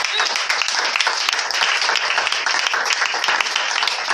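A church congregation applauds steadily for a few seconds, a dense, even wash of many hands clapping together, with voices mixed into the crowd noise.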